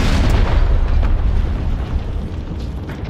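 A vehicle exploding in the BattleBit Remastered video game, a loud broadband blast that rumbles on and slowly decays over about three seconds.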